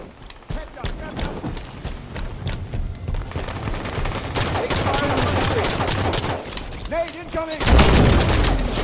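Pistol fire in the video game Halo 5: Guardians during a multiplayer Slayer match, rapid repeated gunshots and bursts crowding together with game effects and a booming blast near the end, loud and continuous.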